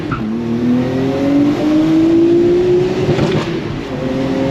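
A car accelerates hard up an uphill pull, its engine note rising steadily in pitch as it climbs through the revs, loud and close from inside, with no speech.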